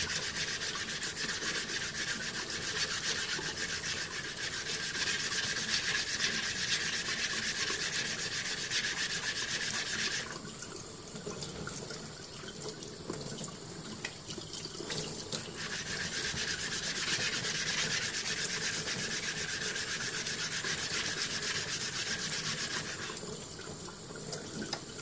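Ceramic Shapton honing stones, unsoaked, being lapped for straight razor sharpening: a steady, continuous gritty rubbing and scraping close up, with a brief lighter pause partway through before the strokes resume.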